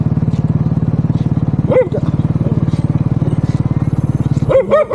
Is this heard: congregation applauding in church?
no